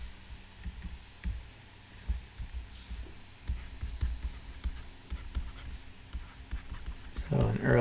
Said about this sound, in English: let me draw another thing out